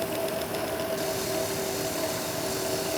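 Car fuel injectors ticking on a running engine, a steady fast mechanical clicking over the continuous drone of the engine at close range, without talk.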